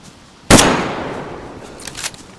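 A single loud gunshot in the survival game DayZ, a sharp crack with a long echoing tail that fades across open terrain, followed by faint smaller clicks.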